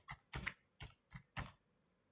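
Five quick keystrokes on a computer keyboard come close and clear in an irregular rhythm, with short pauses between the taps and no talking.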